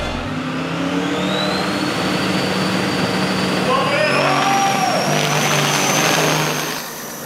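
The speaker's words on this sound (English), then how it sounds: "73 AMC Javelin" A 1973 AMC Javelin drag car idles and revs loudly at a night drag strip, its engine note rising and swelling in pitch over several seconds before cutting off near the end, with an announcer talking over it.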